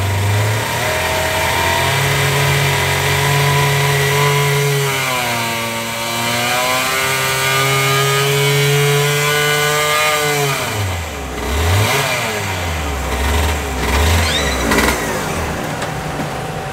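Galaxy 125 two-stroke race engine on a test run, a loud close steady drone that swells and falls in pitch as it is revved, then gets rougher and choppier toward the end.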